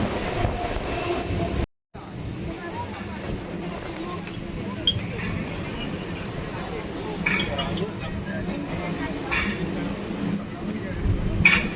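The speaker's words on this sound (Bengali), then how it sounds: "এখন আমাদের ট্রেন প্রবেশ করছে।" A Sealdah–Diamond Harbour local train pulls into Magrahat station, a steady rumble and rattling of carriages filling the whole stretch, broken by one short dropout, with occasional clinks and people talking nearby.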